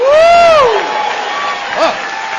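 An audience at an Alcoholics Anonymous roundup convention in Bloomington, Minnesota, cheers and whoops loudly in a large hall, with a high voice whooping at the start before the crowd noise settles into a steady roar.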